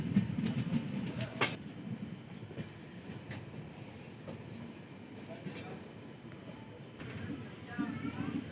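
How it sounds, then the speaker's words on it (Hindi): A passenger train pulls away from platform 5 at Anand Vihar Terminal, a continuous rumble of rolling wagons with light clanks and faint wheel squeal, steady and close, under some quiet background voices. "हमारी ट्रेन प्लेटफॉर्म संख्या 5 से"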